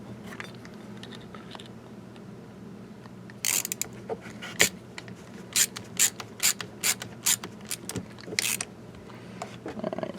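Tightening a bolt on an aluminum and stainless steel shovel and ax mounting bracket, heard as a run of close, crisp ratcheting clicks in short bursts over a low background hum.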